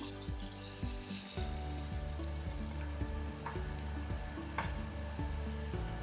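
Oil crackles and sizzles loudly as tempered mustard seeds hit a Kerala-style mackerel curry, a steady frying hiss with small popping bursts.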